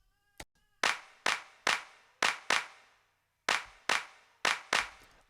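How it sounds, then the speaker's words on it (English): Clap sample from a dancehall beat, sounding as a run of bright, crisp claps with short noisy tails, about nine hits in a syncopated pattern with a pause midway, loud and alone. "We have a clap."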